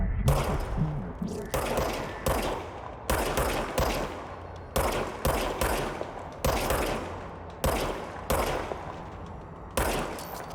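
Rapid bursts of gunfire from the shape-shifting service weapon in the video game Control, loud and close, firing in repeated volleys with short pauses between bursts and no talk.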